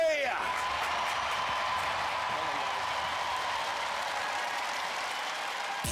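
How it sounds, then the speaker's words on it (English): Crowd applause at a Robot Wars fan event, steady clapping with some cheering, held at an even level for several seconds after a brief vocal sound at the start. "applause for Lamsey!"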